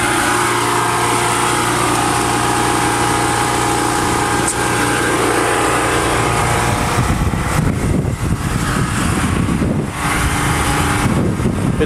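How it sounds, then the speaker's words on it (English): A 3500-watt generator in a 1987 Itasca Phasar RV motorhome runs with a loud, steady engine drone and hum, and wind buffets the microphone toward the end. "It's not the quietest of generators, but it's also not the noisiest."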